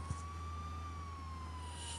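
A police car siren wails in Contraband Police, a steady wavering tone held close and loud over a low engine hum, sounding continuously without a break.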